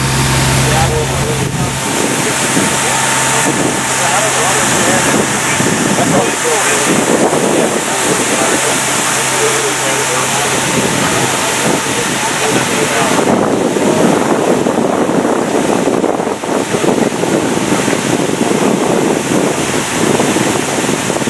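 A fire hose foam inductor runs with an empty barrel and is not drafting, giving a loud, steady rushing roar that continues for the whole stretch, with a voice talking over it.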